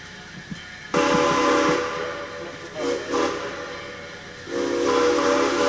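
Steam train arriving at Elbe, greeted by three geared engines on a Mount Rainier line, with long loud steam whistle blasts over hissing steam and rumbling running gear.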